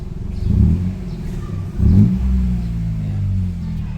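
Mitsubishi Attrage engine revving as the accelerator pedal is pressed, with an electronic throttle box fitted, two rising low rumbling revs that settle back to a steady idle, heard up close.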